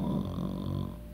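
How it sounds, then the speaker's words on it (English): A sleeping man snores loudly in one long, rough, rattling breath that fills the whole moment, close and steady with no talking. "His head was tilted back and his mouth hung open, fast asleep. He was snoring loudly."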